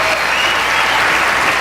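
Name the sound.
audience applause at political debate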